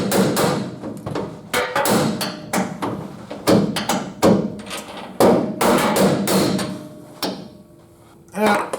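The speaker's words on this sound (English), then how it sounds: "I have to get a hammer here." A hammer strikes leaf spring parts on a 1951 Ford F-1 during lowering work: a long run of sharp metallic blows, close and loud, in uneven bursts with brief pauses.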